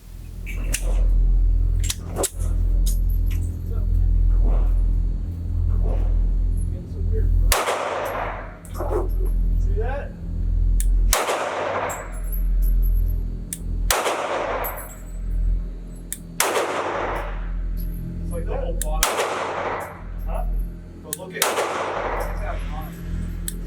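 Pistol shots from a Sig Sauer P365XL at a shooting range, about six sharp reports spaced a few seconds apart, loud and close with a low rumble of ambient noise between them.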